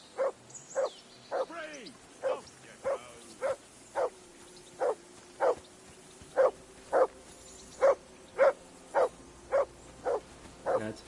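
A dog barks in the medieval RPG Kingdom Come: Deliverance 2, about eighteen evenly spaced single barks at a steady rhythm, moderately close, over a quiet game ambience.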